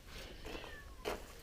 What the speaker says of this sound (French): Si t'entends un chat, c'est mon chat, il est en chaleur.